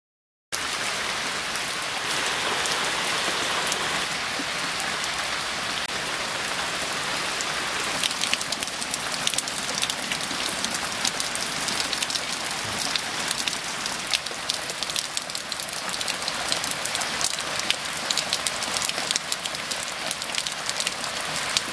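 Steady rain falls outside in autumn woodland, a dense continuous patter of drops on surfaces that thickens and grows more crackling after the first few seconds, with no voices.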